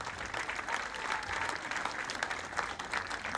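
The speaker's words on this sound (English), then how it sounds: "I think we can clap a little louder than that." Audience applause at a live televised event, a steady dense wash of many hands clapping that swells louder throughout, with no talking over it.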